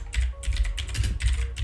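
Fast typing on a computer keyboard, a steady run of close, crisp key clicks in short bursts with brief pauses, and no voice over it.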